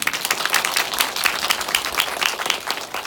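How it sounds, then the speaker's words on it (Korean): An audience in a Hongdae cinema applauds two actresses at a director's book talk and screening Q&A, with close, crisp clapping that swells and holds steadily for the short stretch. "박수 부탁드립니다."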